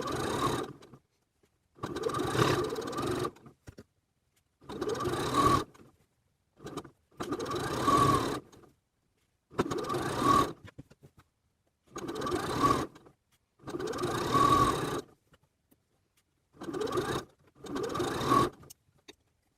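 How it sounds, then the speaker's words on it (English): A sewing machine stitches around the edge of a bucket hat in repeated bursts of whirring, about eight runs each lasting a second or so, separated by short pauses, close and clear with no speech. "stitching around right on the edge"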